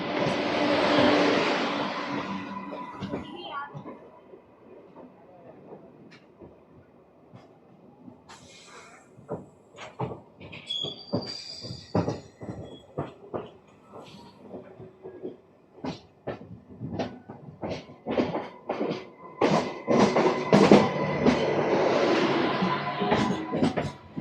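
An RCF-built MEMU suburban train running between Chennai and Tiruchanur, heard from inside as a low rumble with a hiss, then a long stretch of sharp rhythmic clacks and knocks that grow louder toward the end.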